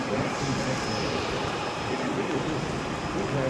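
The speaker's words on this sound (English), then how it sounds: "There's a plane out there." An airplane at Springfield-Branson National Airport in the rain: a steady, distant engine roar blends into a continuous wash of rainfall, with no speech.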